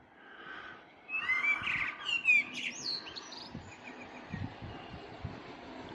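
Several birds sing and chirp in the early morning, with bright warbling phrases rising over a low outdoor background and no voices.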